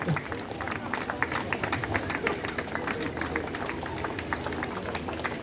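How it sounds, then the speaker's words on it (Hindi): Crowd clapping at a church golden jubilee celebration at St Paul's church, a steady patter of many hands with voices talking underneath, fairly close and even in loudness throughout. "ताली बंद हो जा रहा है, कम हो रहा है।"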